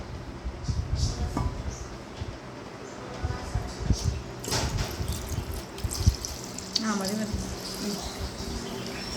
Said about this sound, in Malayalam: ഇതിലേക്ക് നമുക്ക് ആവശ്യത്തിന് വെള്ളം ഒഴിക്കാം.